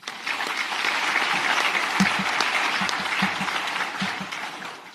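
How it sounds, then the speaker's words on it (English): Audience applause for farmers at the Agri SA Congress 2019, a steady wash of clapping from a large crowd rising quickly and holding for several seconds before tapering off. "please give a big round of applause to all the farmers around the world"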